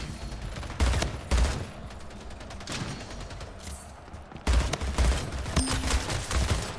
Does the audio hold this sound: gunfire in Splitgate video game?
yes